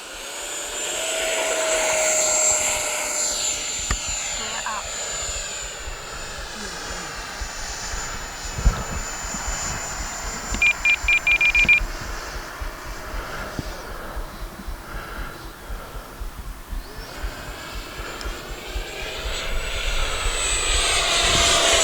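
An FMS F-18 Super Hornet 70mm electric ducted-fan RC jet spools up and takes off, its loud whining turbine-like roar rising and shifting in pitch as it moves away and passes, with brief electronic beeps midway and a speaking voice at times.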